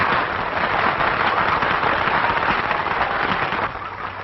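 A 1949 film audience claps for a composer and the woman who inspired his song, a thick, even roar of applause that fills the scene and starts to thin out near the end.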